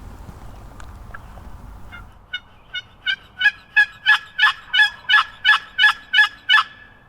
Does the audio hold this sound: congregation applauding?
no